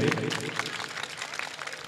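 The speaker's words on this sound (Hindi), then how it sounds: "तालियां बजाइए" Audience applause at an Urdu mushaira during a garlanding honour, steady clapping from a crowd throughout with voices mixed in.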